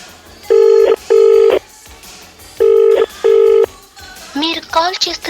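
A telephone rings out on a call, two pairs of long steady tones with pauses between, loud and close, followed by a burst of voice-like sound at the end.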